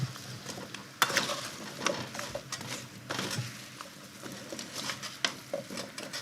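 Potato cubes are stirred in a pork stew pot, with uneven scraping and soft clacks of a utensil against the pot, a few sharper knocks, over a faint background sizzle.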